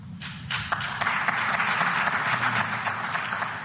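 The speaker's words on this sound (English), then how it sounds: "Very little applause there." Thin, scattered applause from a small crowd, a loose patter of claps that carries steadily for a few seconds without building.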